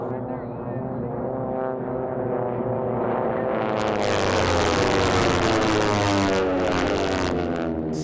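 A T6 racing airplane with a 1,340 cubic inch air-cooled Pratt & Whitney radial engine at the Reno air races, a loud, rough, throbbing propeller drone that swells into a roaring close pass.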